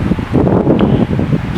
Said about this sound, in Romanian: Uitați ce bate vântul